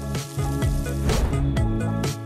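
Spices such as cinnamon and cumin fry with other ingredients in olive oil in a pan, giving a steady close sizzle with occasional bursts of crackling as the food is stirred.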